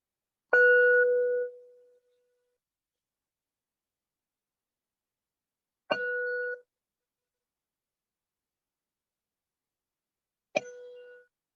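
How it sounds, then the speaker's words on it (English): A meditation bell is struck three times at spaced intervals in a quiet hall during a guided session. Each strike gives a clear, bright ring that fades away slowly, with silence between strikes and no voices. "Listen to this bell."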